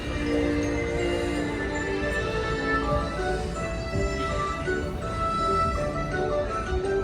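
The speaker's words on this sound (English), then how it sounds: "Train." A steady, dense rumble of a train runs throughout, constant and fairly loud with no pauses.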